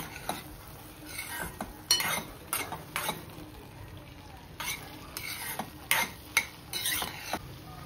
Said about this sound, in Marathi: तूप सुटेपर्यंत छान आपल्याला परतून घ्यायचं आहे।